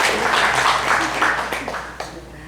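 A lecture audience gives a short burst of clapping that fades out over a couple of seconds.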